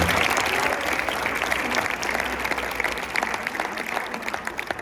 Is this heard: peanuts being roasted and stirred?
no